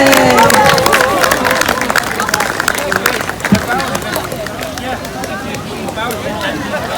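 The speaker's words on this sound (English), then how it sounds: "Give them another round of applause for their encore." Crowd applause and cheering at an outdoor moat boat race event, a dense steady wash of clapping mixed with lively crowd babble and voices throughout.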